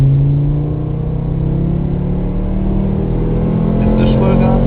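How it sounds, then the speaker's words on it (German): A car engine pulls hard at nearly full throttle, a loud steady low drone that rises slightly in pitch over a few seconds, with people talking over it inside the cabin. "Das ist fast Vollgas."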